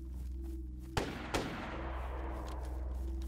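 Two sharp gunshots crack a moment apart in the video game DayZ, the second one following closely, over a steady low hum.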